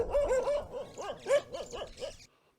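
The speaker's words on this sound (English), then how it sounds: "the home of Jen Musioka, we are welcomed by the barking of these 3 dogs and sending an alert to the homeowner." Several dogs at a rural homestead bark in a rapid, overlapping volley, loud and close, with yips and whimpers mixed in before the noise cuts off abruptly.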